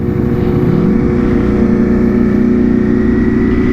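A 2022 Ducati Panigale V4 motorcycle engine runs steadily and loudly throughout, a dense droning rumble with a slight rise in pitch partway through, alone with no talk.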